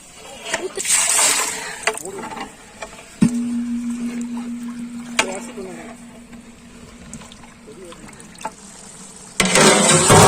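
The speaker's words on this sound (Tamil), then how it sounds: "தேவையான அளவு தண்ணி ஊத்திக்க போறோம்." Water being poured into a village-style chicken biryani pot over spices and masala. Several splashing pours sound close and fairly loud, and a steady pumping hum runs through the middle.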